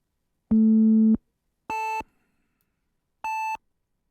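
A synthesizer sounds three separate held tones, each a clean steady electronic note: a longer, lower, louder one first, then two shorter, higher ones a little apart. The notes ring alone against silence, close and clear.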